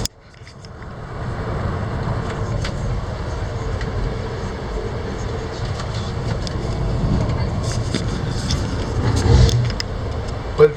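Riding at the back of a passenger train, a steady low rumble of the carriage runs throughout with scattered clanks and rattles, swelling briefly near the end.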